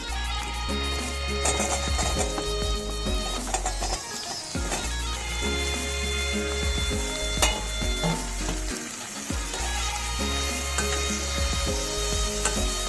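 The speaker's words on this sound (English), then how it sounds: "Fry well all the mushrooms in this butter" Mushrooms fry in butter with a steady, loud sizzle, broken by irregular scrapes and clinks as they are stirred in the pan; no voices.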